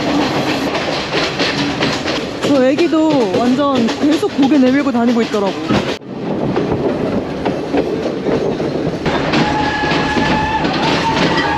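A passenger train in Sri Lanka rumbles and clatters steadily along the rails, with people talking loudly over the continuous mechanical noise.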